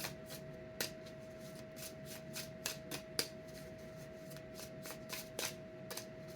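Tarot cards being shuffled, a steady papery riffle with sharp flicks and taps of cards scattered throughout, close and fairly quiet over a constant faint hum.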